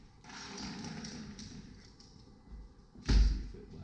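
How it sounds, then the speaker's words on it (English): An interior door in a rental property swings and shuts with a solid slam and thud near the end, preceded by soft shuffling and handling sounds in a quiet room. "we'll test this door here"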